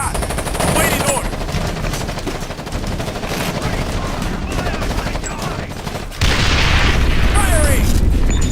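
Loud, sustained automatic gunfire and heavy booms fill a firefight in Ghost Recon Advanced Warfighter, with bursts running almost continuously and a voice occasionally audible beneath the shooting.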